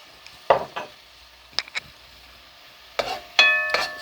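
Blended tomato puree cooking in a pan for a mussel and king prawn paella. It is mostly quiet, broken by a few brief stirring scrapes and spits of sizzle in separate bursts.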